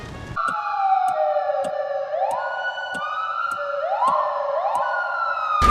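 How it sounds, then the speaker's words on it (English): A police car siren from the racing video game Dangerous Driving wails steadily with rising, sweeping tones and faint regular clicks. It is loud and continuous, with no talk over it. "I also had some stupid fun just switching between the different cop vehicles, due to the pitch of the siren seemingly staying the same between the swap."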